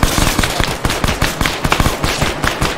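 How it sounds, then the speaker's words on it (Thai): Rapid automatic gunfire rattles in dense, loud bursts during an Arma 3 Task Force Riot firefight, shots cracking close and continuous with sharp repeated impacts. "ยิงจากหน้าบ้าน"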